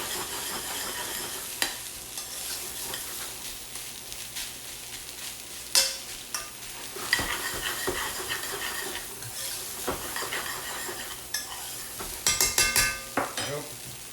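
A spoon or spatula stirs and breaks up stale rice frying in a pan, with a soft sizzle under irregular scraping and clinks of utensil against pan.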